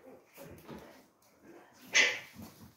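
Puppies let loose during cleaning of their pen scamper about, giving several soft whimpers and yips followed by one sharp, louder bark near the end.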